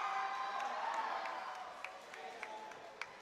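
Students in an arena cheering for their teams at a robotics competition final, a distant steady crowd roar with a few sharp claps and whistles standing out toward the end.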